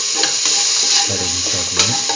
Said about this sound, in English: Put in the cucumber pieces.